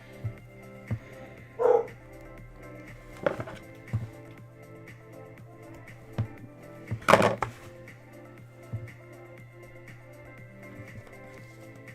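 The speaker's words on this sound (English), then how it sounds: "what are we barking at now?" A dog barks in a few sharp, scattered barks at a moderate distance over a quiet indoor hum, with a louder bark in the middle and faint knocks between.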